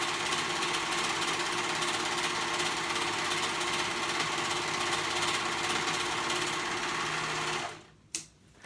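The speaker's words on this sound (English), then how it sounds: "So that I can keep sewing." A sewing machine runs steadily while stitching a fairy jacket, a close, continuous rapid mechanical whir that holds for about eight seconds before stopping with a couple of small clunks.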